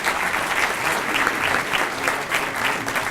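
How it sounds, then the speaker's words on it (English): A room of Rotary club members applauding an attorney general, dense steady clapping from many hands that carries evenly for a few seconds at close range. "give the Attorney General a quick round of applause"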